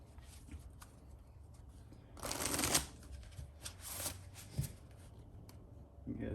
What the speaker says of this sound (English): you guys get to see some shuffling today